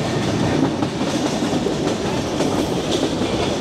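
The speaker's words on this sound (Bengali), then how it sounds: "চিলাহাটি এক্সপ্রেস ট্রেন আমরা ধরলাম" The Chilahati Express passenger train running along a line near the Indian border, a loud, continuous rumble with rhythmic clickety-clack of wheels over rail joints, heard from on board without talk.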